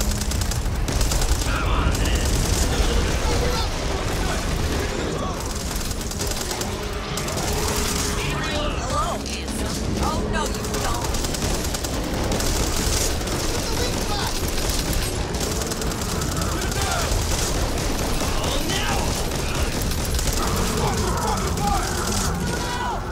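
Rapid automatic gunfire and booming shots from the Back 4 Blood co-op video game fight against an ogre, loud and continuous throughout, with players talking over it.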